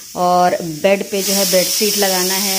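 A pressure cooker cooking dal in a home kitchen gives off a steady steam hiss that rises midway and continues beneath someone talking nearby.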